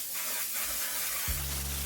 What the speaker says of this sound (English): we're going to use a fixing spray. This is the One Size Until Dawn setting spray.